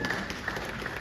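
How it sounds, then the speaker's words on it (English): Crowd at a KISS fan cruise event in Las Vegas claps in a steady wash of applause, a short continuous burst at moderate distance. "those two guys really, truly deserve a round of applause"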